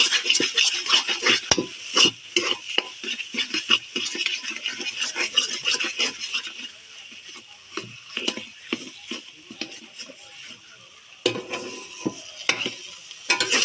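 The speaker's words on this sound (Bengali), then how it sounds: "সামান্য একটু চিনি দেবো এতে ছড়িয়ে, দিয়ে ভালোভাবে নেড়ে" A banana flower stir-fry being stirred in a pan after a sprinkle of sugar: brisk, close scraping and clattering of a spatula over a soft sizzle, continuous and loud, with no voices.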